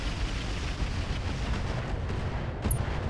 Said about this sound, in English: Some AoE incendiary LRMs is not the end of the world.